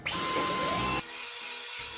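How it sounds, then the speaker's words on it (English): A vacuum cleaner runs loudly on carpet, picking up carpet powder, with a steady roar that drops suddenly to a lower hum about halfway through. "now we gotta vacuum up the carpet powder just to freshen up the musty smell"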